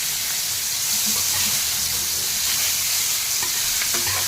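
Raw papaya pieces fry in a pan with turmeric and curry leaves, a loud steady sizzle and hiss throughout, with scraping stirs of a spoon faintly breaking through the bubbling.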